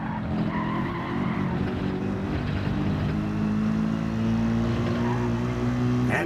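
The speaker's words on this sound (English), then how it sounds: "MK really sending it through Ascari, trying to hold on to this position" GT race cars roar through the Ascari chicane at Monza in a sim racing game, engines droning steadily with shifting pitch and tyre scrub, loud and continuous.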